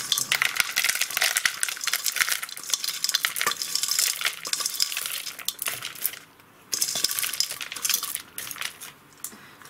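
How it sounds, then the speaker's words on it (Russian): Potting soil pours and rattles continuously into a pot while repotting an orchid, a dense gritty hiss with small scattering clicks, briefly pausing before resuming. "мне нужно насыпать грунт сначала просто в горшок"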